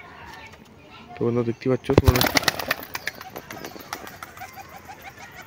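Someone talks briefly, then a pigeon is released and its wings burst into loud, rapid flapping close by before fading out, with faint cooing and bird sounds lingering afterward.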